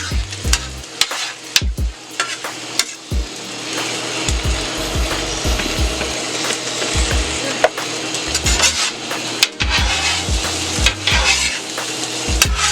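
Eggs cooking in a pan with chorizo and potatoes: a steady sizzle broken by frequent scraping knocks and clatters of a utensil against the pan, close and loud, with no talking.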